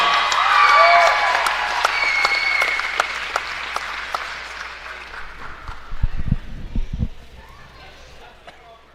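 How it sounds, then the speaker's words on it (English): Crowd in a high school gym applauds seniors on senior day before a girls basketball tip-off, loud clapping that gradually fades, followed by a few low thumps as the noise dies down. "let's have one more big round of applause for all our seniors"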